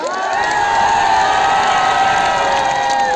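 A large audience at a political rally cheers and applauds loudly and continuously, a dense wash of shouts and whistles with no clear speech on top.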